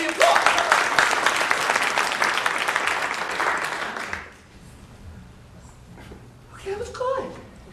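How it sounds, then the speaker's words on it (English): A studio audience bursts into cued applause, dense clapping that cuts off abruptly partway through, followed by quiet room tone and a few spoken words. "the applause lights go on, and we applaud"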